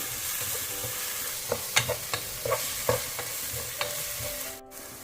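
Masala for crab biryani is sautéed in a pan without salt, a soft continuous sizzle with scattered spoon scrapes and stirring knocks, fairly quiet and close.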